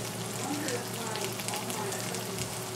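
Corn cut off the cob fries in butter in a pan, making a steady close crackling sizzle that stays even and continuous throughout.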